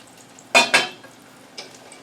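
A frying pan of pork meatballs shaken over the heat: two quick, sharp rattling jolts close together, then a softer third, with a faint frying hiss underneath.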